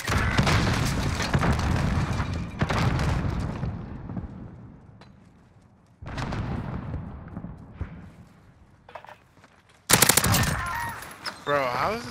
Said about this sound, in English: throw a Semtex over the wall